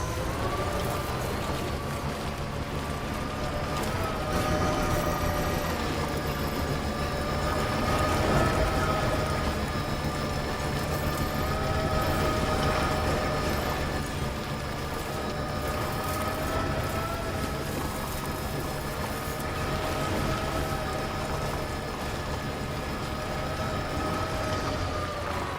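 A monorail runs in Death Stranding 2, a steady mechanical hum with a tonal whine and engine-like rumble that holds evenly throughout, swelling slightly midway.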